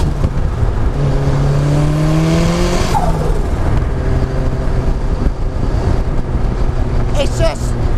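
A 375 bhp RX-5 250 car accelerating hard, the engine revving up through rising gear sweeps with a brief tire squeal, loud and close, with someone talking over it.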